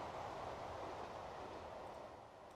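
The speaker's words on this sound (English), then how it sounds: "With the world's longest grain train." Very long grain train in the video game Transport Fever, a steady faint rolling rumble of rail wagons that holds for a couple of seconds with no talking.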